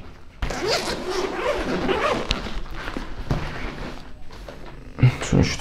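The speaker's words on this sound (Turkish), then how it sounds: "Şöyle bir çantamızı açalım." The zipper of a PGYTECH OneMo camera backpack is pulled open in a long, close ripping run, followed by soft handling thumps and rustles as the bag is opened.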